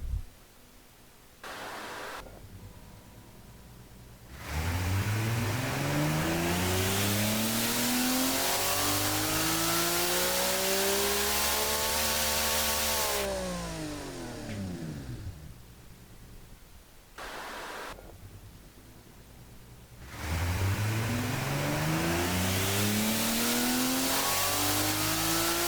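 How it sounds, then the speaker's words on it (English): A powerful Toyota 2JZ-style straight-six engine in the car-building game Automation revs repeatedly on a dyno, pitch sweeping up high and falling back, with brief pauses between long, loud pulls; no talking. "this engine sounds beautiful"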